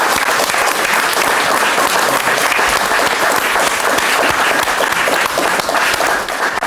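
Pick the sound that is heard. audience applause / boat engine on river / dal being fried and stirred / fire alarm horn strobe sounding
audience applause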